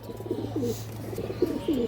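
A female old-breed pigeon coos softly in a few short, repeated calls over a low steady hum, close by.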